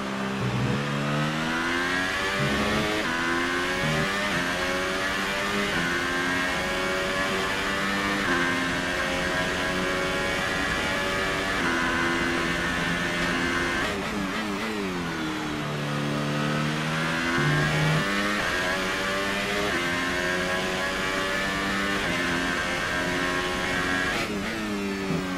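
Race car engines in an online racing video game set in Brazil roar continuously, revving up and down through gear changes, loud and close throughout with no voices.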